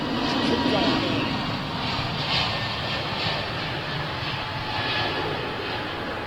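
An Air Canada Boeing 777 jet roars steadily at London Heathrow Airport. The broad engine rumble holds level throughout while a person talks over it.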